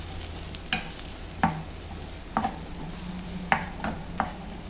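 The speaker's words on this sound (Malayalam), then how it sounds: "ഇനി നമുക്ക് മസാല എല്ലാം കൂടെ മിക്സ് ചെയ്ത് കൊടുക്കാം." Egg masala curry is stirred in a pan, with a few separate spoon scrapes and clinks over a low, quiet simmering hiss and no voices.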